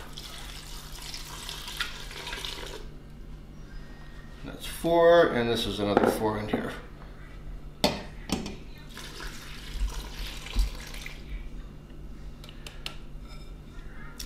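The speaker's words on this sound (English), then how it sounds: "we're going to add in 8 cups of water" Water runs and splashes into a pot of dandelion flowers in short pours, with a person talking nearby between and over the pouring.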